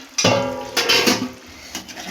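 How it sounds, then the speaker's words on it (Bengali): A metal lid comes off a pot of chicken curry with a couple of clattering clanks and a short scrape, close and fairly loud in a kitchen. "এবার আমি ঢাকাটা খুলে দিলাম"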